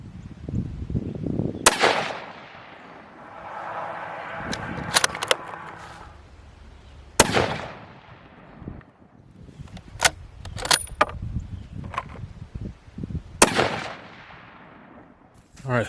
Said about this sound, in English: Let's shoot the next powder charge